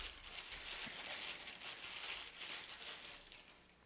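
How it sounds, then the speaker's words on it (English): Plastic bag crinkling while a pair of spy sunglasses is unboxed, a soft steady rustle close by with no talk. "It's in a nice plastic bag, all wrapped up."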